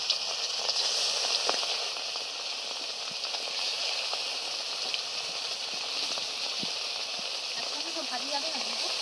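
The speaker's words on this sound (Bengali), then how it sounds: "দিদা আমোদি মাছের মধ্যে নুন আর হলুদ মাখিয়ে মাছটাকে ভেজে নেবে।" Amudi fish coated in salt and turmeric hisses and sizzles steadily in hot oil over a lit stove, a constant frying sound that lasts the whole time, with faint clinks now and then.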